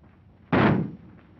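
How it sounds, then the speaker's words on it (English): A single loud, close gunshot from a gun, a sharp, heavy crack with a short, dull tail, heard against faint background noise in a 1939 film scene. "That shot got him."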